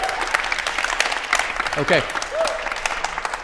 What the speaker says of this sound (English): let's do a big round of applause for Dinesh and Alex